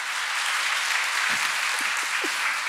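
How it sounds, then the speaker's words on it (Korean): A church audience at a testimony gathering applauds steadily as an MBC comedian is welcomed; the dense, even clapping fills the whole stretch, with no talk over it. "박수를 좀 해주셔도 되는데"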